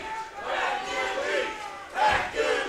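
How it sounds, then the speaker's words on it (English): A boxing crowd roars for fighter John Torres at a professional bout in Baytown, a swelling mass of cheers and shouts that rises twice in loud waves, with voices yelling through the din. "The crowd comes to life for Hercules, John Torres"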